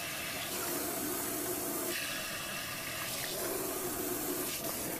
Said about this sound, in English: How's that water for you, Miss Samantha?